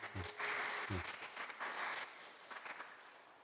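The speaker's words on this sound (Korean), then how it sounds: "우리 한번 박수로 환영합시다." A church congregation at a Sunday service in Dortmund claps in welcome, in uneven bursts that swell and fade, with a low voice sounding briefly near the start.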